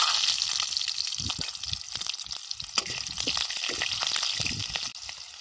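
Garlic and green chili frying in hot oil in a pan at an outdoor riverside chicken cookout, a close, continuous crackling sizzle with scattered spitting pops throughout.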